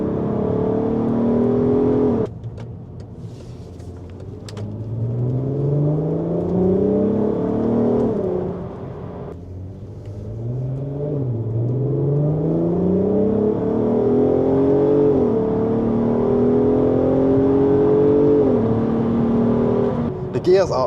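A VW Golf 5 R32 with a non-stock aftermarket exhaust revs loudly and close, its engine note climbing and dropping in repeated sweeps through gear changes, steady and continuous throughout.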